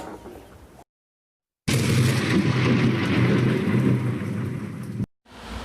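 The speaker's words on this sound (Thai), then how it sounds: "ตอนนี้เราติดฝนแล้ว" Rain falls around the mountain rice terraces of Pa Bong Piang, a dense, loud, steady hiss close to the microphone that cuts off abruptly in places.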